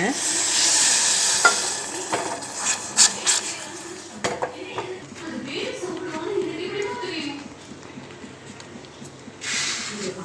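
Sugar syrup for a moong dal sweet is stirred in a pan with repeated scraping and clinking of a spoon over a faint sizzle. A person talks throughout.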